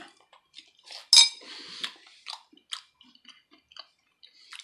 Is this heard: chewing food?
yes